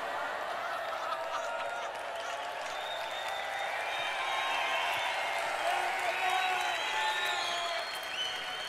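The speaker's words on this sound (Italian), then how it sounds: "Questo lo riconosco chiaramente, un applauso di presa per il culo." Mocking applause from a large audience in an arena at a comedy show, sustained dense clapping with cheers and whistles running steadily for several seconds.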